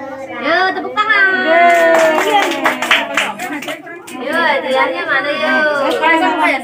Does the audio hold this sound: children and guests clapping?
yes